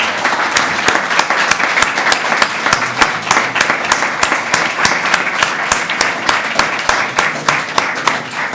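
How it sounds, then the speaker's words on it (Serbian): Sustained applause from an audience filling a hall at an engineers' hall event, dense clapping with sharp individual claps standing out, loud and continuous with no break throughout. "jedan veliki aplauz za omladinu"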